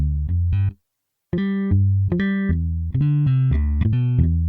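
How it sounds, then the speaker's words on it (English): A clean, muted Fender-style electric bass preset from the Trillion Bass plugin plays a short, punchy line of plucked notes, with a brief gap of silence early on before the phrase continues. "It's called the Clean Fender Mute."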